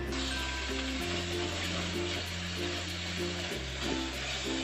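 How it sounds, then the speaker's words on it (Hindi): Onion paste fries steadily in a pan for a khosa curry, a dense continuous sizzle with low stove hum underneath and faint stirring, loud and close throughout. "इसको अच्छे तरीके से मैं फ्राई कर लूँगी, भून लूँगी"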